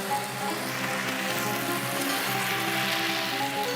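A whole piece of meat sizzles with onion in a very hot pan, a loud, continuous crackling hiss that stays steady throughout without talk.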